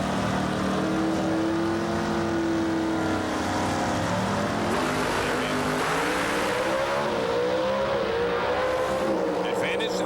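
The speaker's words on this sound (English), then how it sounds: "Great drag race, top end the Cowboy." Drag racing cars at an NHRA event at Firebird Raceway in Phoenix roar down the strip, engine tones sweeping upward as they accelerate, while a commentator talks over the racing.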